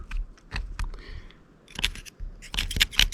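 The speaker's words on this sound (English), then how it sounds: "So we're just gonna do a reseal after I cut out this bad stuff." Blade cutting out old, deteriorated sealant around an RV front window, giving a series of short scraping, slicing strokes with brief sharp clicks, close and fairly loud, with pauses in between.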